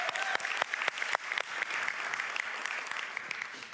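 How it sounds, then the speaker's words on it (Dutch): An audience at a municipal opening programme bursts into applause, with sharp individual claps standing out at first before settling into a steady, moderate ovation. "Dus ik zou graag een applaus willen voor..."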